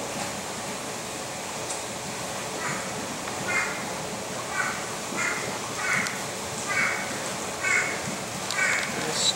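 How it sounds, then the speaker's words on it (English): Birds call throughout a zoo's tropical rainforest exhibit, with repeated harsh, crow-like calls rising over a steady wash of flowing water and faint background voices. "And birds everywhere."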